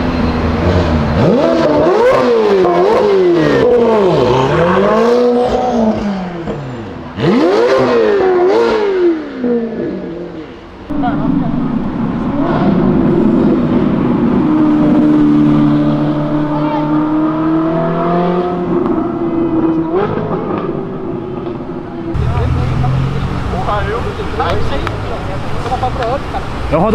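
Sports cars accelerating along a city avenue, engines revving and rising in pitch through several passes, with tire noise and traffic around them; people talk nearby at times.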